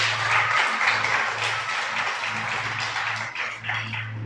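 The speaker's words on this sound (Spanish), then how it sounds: "Dale un aplauso" A church congregation gives a short round of applause during a Shabbat sermon, a dense moderate clatter of many hands with a low hum underneath, fading slightly toward the end.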